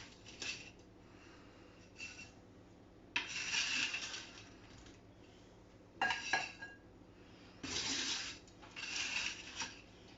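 Several short bursts of crisp crunching and scraping, like a knife cutting through crispy fried fish against a plate, separated by quiet pauses.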